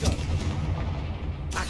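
A Confringo spell blast in Hogwarts Legacy, a dense rumbling explosion that fills the whole moment with a low, sustained boom and a brighter crack near the end, heard without talk.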